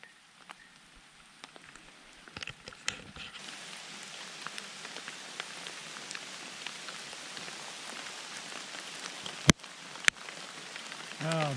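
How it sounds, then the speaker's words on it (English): Steady rain patters outdoors in a forest, a dense, continuous hiss of drops on surfaces with a few louder close taps and clicks, no voices. "I'm still outdoors in the wild in the rain"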